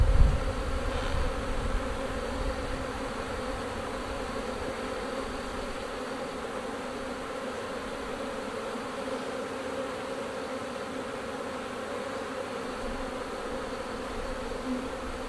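Honey bees hum steadily around an open hive during a colony split into nucs, a dense, continuous buzz that stays close and even throughout with no talking.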